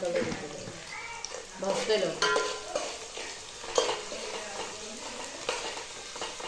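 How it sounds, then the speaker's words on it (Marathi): Onion frying with salt in a pan for masala rice, a quiet sizzle with stirring and scraping noises while a person talks over it. "मीठ घातलं की कांदा लवकर परतते लवकर शिजून येते लाल"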